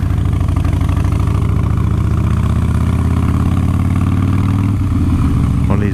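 A BMW S1000RR motorcycle with a warning light on its dashboard idles loud and close, a steady low rumble throughout, with a slight change in tone near the end.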